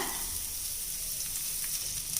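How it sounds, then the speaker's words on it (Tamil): Soft, steady sizzling of nuts frying in hot ghee, a gentle crackle with faint stirring, close and quiet. "இந்த நெய்லேயே இதை வறுத்து எடுத்துக்கலாங்க எல்லாத்தையுமே"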